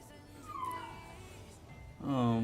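A dog gives thin, high whimpers that slide downward, fairly faint over a low background hum, then a louder, drawn-out whine at the end.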